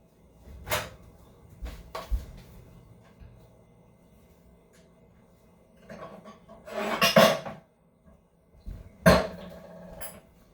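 A small bowl is fetched from a kitchen cupboard: scattered knocks and a cupboard door clunk, then several sharper clinks and clatters of crockery close by, with quiet gaps and no talking.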